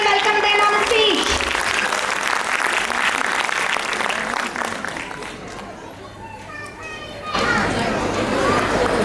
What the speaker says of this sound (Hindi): So please put your hands together and welcome them on the stage.